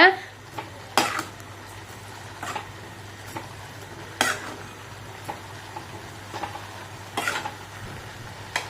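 Pearl millet vermicelli is stirred in a cooking pot, with a spoon clinking and scraping the metal in sparse, irregular knocks over a low steady hum.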